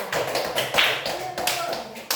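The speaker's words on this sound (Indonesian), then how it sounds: "tepuk tangan untuk kelompok 3" Scattered hand claps and taps from a small group in a classroom, uneven and brief, with voices chattering over them.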